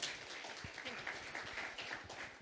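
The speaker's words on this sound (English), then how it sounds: "Round of applause for Yulia." Audience applause at a 2022 international community meetup in Vilnius, a steady, quiet wash of many hands clapping at a distance that carries on without a break.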